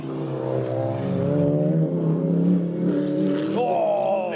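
Mercedes GT3 race car at Blyton Park roaring along the track, a loud, close engine with climbing pitch as it pulls through the gears, then a sharp upshift and renewed acceleration near the end.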